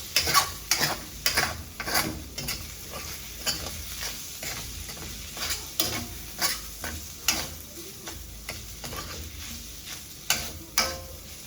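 Ground meat stirred in a frying pan, with a steady sizzle under repeated scraping strokes of a utensil, close and fairly loud with no talking.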